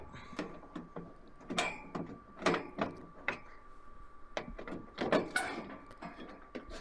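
Furnace access door being pried open by hand, a series of irregular scraping clanks and metallic rattles, close and fairly quiet, spread over several seconds with no talking.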